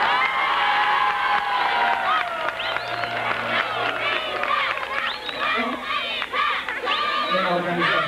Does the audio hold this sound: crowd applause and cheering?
yes